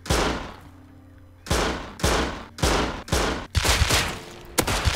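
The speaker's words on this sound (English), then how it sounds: "Sounds like a shotgun raid on our base." Shotgun fire in the survival game Rust during a base raid: a single loud blast, then a rapid run of four or five heavy booming shots close by, each with a short decaying tail.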